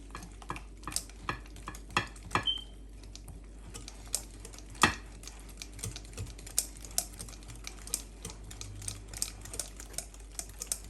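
Banana bread batter with two eggs is stirred by hand in a bowl, giving a quick series of soft clicks and scrapes. The irregular ticks of the utensil against the bowl carry on without talk.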